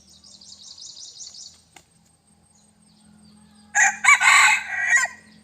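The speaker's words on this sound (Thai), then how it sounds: "เสียงเหมือนไก่เถื่อนครับผมตัวนี้" A crossbred rooster crows once with a harsh call like a wild junglefowl, close and loud, after softer high bird chatter and quiet background.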